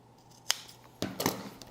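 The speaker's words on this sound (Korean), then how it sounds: "이렇게 가위로 자르셔도 됩니다" Scissors snip through leather during leathercraft, trimming overhanging edges of a side panel, giving a few crisp close cuts: one snip, a brief pause, then a quick cluster of snips against low room noise.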